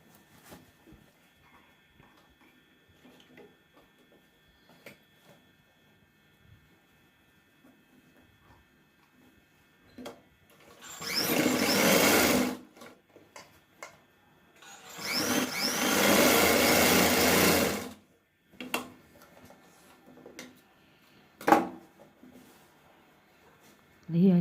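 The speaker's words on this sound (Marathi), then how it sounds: "अशा प्रकारे एक टीप पुन्हा एकदा मारून घ्यायची दोन्ही बाजूला" A sewing machine stitches a four-tuck lined blouse in two loud, close bursts of steady whirring, the second one longer, set among quieter handling noises and a person talking.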